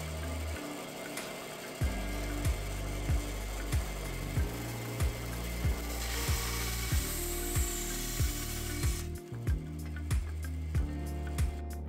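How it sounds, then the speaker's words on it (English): A bandsaw trimming the front face of a carved wooden pendant light, a steady motor hum with repeated sharp thumping strokes and a brief rising cut, close and loud with no talk. "then I could take it over to my bandsaw and trim off that front face"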